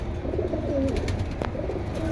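Soft, low pigeon coos murmur under a steady background hum, close by, with a few faint clicks.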